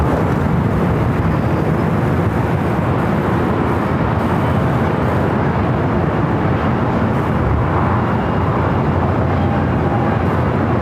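An airliner at Los Angeles airport roars with loud, broadband jet noise that holds steady and close throughout, with no voices.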